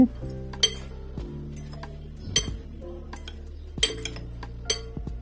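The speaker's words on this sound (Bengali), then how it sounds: "আবারও আলতো হাতে মিশিয়ে নিচ্ছি।" Broccoli salad tossed gently with salt and black pepper in a bowl, giving soft stirring with several clear clinks of a utensil against dishware spaced through the clip, close by.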